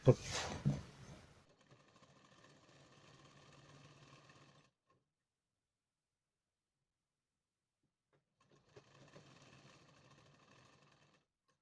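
A sewing machine stitching a blouse neckline in two short runs of steady mechanical whirring, close and quiet, with a voice speaking at the start and silence between runs.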